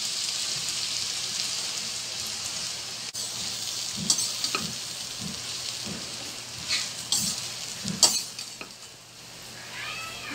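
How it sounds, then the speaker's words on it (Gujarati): Sev khamani being stirred and mixed with green chutney in a bowl, giving soft scraping strokes and a few sharper clicks of a spoon, close and alone with no talk. "હવે આપણે બધું મિક્સ કરી લઈશું."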